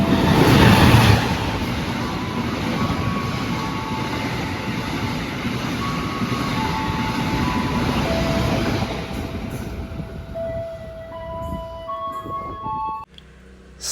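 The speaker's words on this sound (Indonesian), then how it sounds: "menunggu disusul oleh kereta api Batavia yang hari ini ternyata menggunakan lokomotif dinas CC201" A Batavia passenger train hauled by a CC201 diesel locomotive passes close by with a loud roar and rumble that slowly fades, followed by faint tonal whines and squeals as it moves away.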